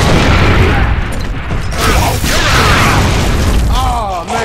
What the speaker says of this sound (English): Gives Giddy a boom shot